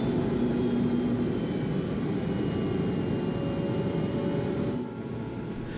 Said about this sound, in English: I love the noise the engine makes as it throttles up and down, maintaining the correct approach to the runway.